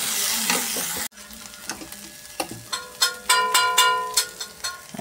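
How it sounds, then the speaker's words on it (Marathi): Ground dry coconut roasting in oil with bay leaf in a pan, a soft sizzle with repeated scraping stirs in an uneven rhythm after an abrupt start, close and moderately loud. "तेल सुटेपर्यंत खमंग भाजून घेणे।"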